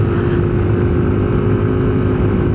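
A Yamaha Nmax 155 scooter engine runs on its stock spark plug with a constant, close, rumbling drone and no talk over it.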